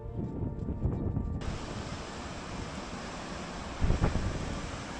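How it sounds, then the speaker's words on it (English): Steady, powerful roar of Dettifoss waterfall in Iceland, Europe's most powerful, fills the scene, a broad continuous wash with a gusty buffet of wind partway through. "the most powerful waterfall in Europe"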